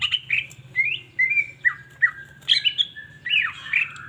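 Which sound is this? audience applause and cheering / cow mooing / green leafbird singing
green leafbird singing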